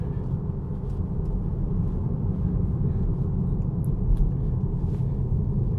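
Tesla Model 3 on Autopilot along a county road, heard as a steady, even interior road rumble and tyre noise that holds at a constant level throughout.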